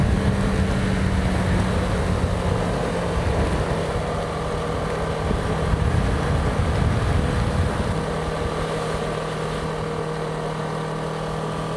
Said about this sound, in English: I love this motorcycle!